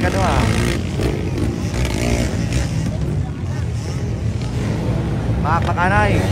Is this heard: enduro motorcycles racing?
yes